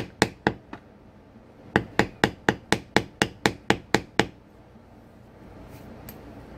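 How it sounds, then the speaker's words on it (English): A hammer strikes a metal beveler tool walked along a line on costume material, sharp close knocks, three then a steady run of about ten evenly spaced blows, then quiet. "And I'm just going to kind of hammer and walk it along."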